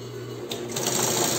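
An industrial sewing machine stitching a bra runs steadily and close, picking up speed halfway through as a continuous mechanical whir with no talk.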